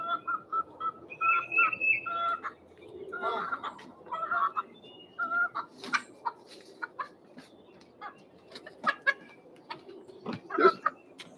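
Backyard hens cluck and chatter in short bursts during a morning feeding, with brief whistles and a few bird calls mixed in, moderately close and steady throughout.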